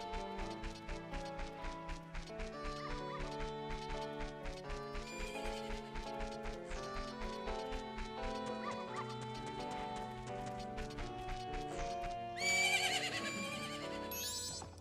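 A horse neighs and whinnies in a Zelda video game over steady clip-clop hoofbeats and layered background music, with a brighter, louder burst near the end.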